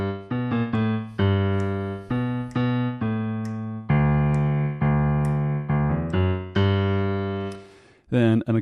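Solo piano bass line played with the left hand in a New Orleans style, a rolling sequence of deep, separated notes with steady rhythmic phrasing, loud and close, ending with a brief flurry.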